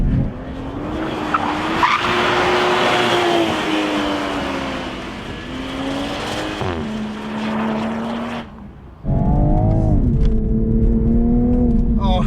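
A Toyota Supra's engine roars at high revs on a race track with a coarse surface while tires squeal in long, wavering screeches as it slides sideways, loud and close throughout.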